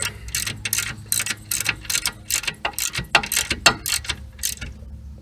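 Ratchet wrench tightening the 18mm rear caliper bracket bolts on a 2010 Cadillac CTS-V: rapid runs of metallic clicking in short bursts, close and fairly loud, with no talking.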